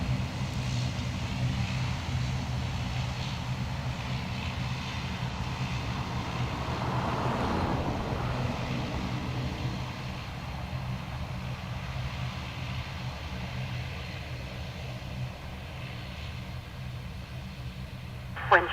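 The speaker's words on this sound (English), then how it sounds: "Now we normally see one engine shut down at this point." Jet airliner at Dublin Airport idling on the ground with one engine shut down, a steady broadband engine rumble and hiss holding throughout at moderate level, with faint talk beneath.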